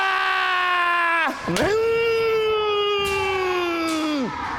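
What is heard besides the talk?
martial arts students shouting battle cries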